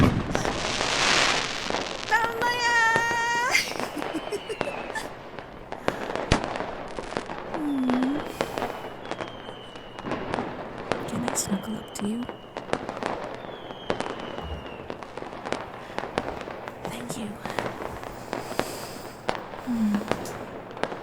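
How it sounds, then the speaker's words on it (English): Festival fireworks in a woodland setting burst repeatedly, with sharp cracks and booms at irregular intervals, some whistling launches and crackle, spread over about twenty seconds with background noise. "The fireworks are beginning."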